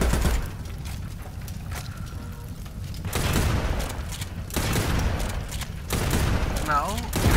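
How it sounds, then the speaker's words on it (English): Gunfire in a PlayStation shooter game: bursts of rapid shots and booms run throughout, swelling in louder volleys around the middle and end, with voices talking over the combat. "Guns."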